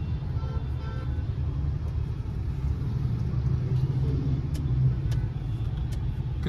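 Steady low engine rumble from an MG Hector 1.5 petrol SUV cruising on a test drive, a continuous even drone with a slight swell near the end and no talk over it.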